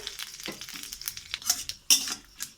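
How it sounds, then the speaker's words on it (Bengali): Cumin and a dried chili sizzle in mustard oil in a karahi: short crackling bursts and spatters come with a few clinks and scrapes of a utensil, close and moderately loud, without speech. "একটু সরিষার তেল দিলাম"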